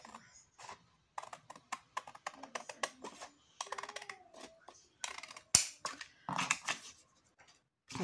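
Scissors cutting fabric for a coin purse, close and fairly faint, a series of crisp, short snips and clicks in uneven bursts separated by quiet gaps.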